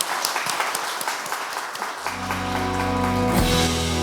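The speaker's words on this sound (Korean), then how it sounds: "큰 박수 부탁드리겠습니다." Audience applause at an energy economics policy seminar, a moderate wash of clapping that continues as a low sustained tone rises underneath partway through.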